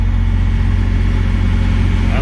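A neighboring truck's diesel engine idles nearby with a steady low rumble and rapid rhythmic clatter, loud and continuous throughout.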